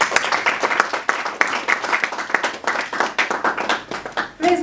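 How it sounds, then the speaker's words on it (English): An audience at a counter human trafficking forum in Rwanda claps to welcome a speaker to the podium, continuous dense applause that swells and dips, ending as a voice begins. "Please clap until he comes here."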